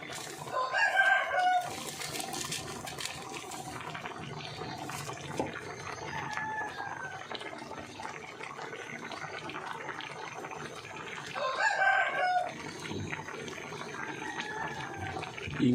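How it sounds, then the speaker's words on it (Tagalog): Roosters crow twice, a loud call near the start and another later, over a busy background of clucking chickens and running water. "Ang ingay talaga ng mga manok guys."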